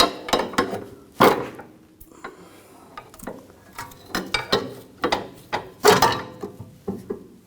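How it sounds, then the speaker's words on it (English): A pry bar levers the rear forward lower control arm out of a 2011-2018 Volkswagen Jetta, giving a run of sharp metallic clanks, knocks and scraping creaks in irregular bursts, close and fairly loud with no talk. "And just pry the arm out."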